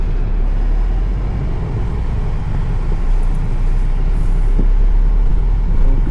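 A car's engine and tyres rumble steadily and loudly from close by on a narrow single-lane road near a beach in Goa, a constant low drone with no talking.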